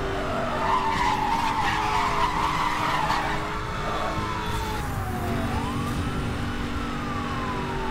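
Long tire squeal of a car drifting in Need For Speed: Hot Pursuit, a continuous, loud screech with shifting pitch over steady engine roar and road noise, no talking.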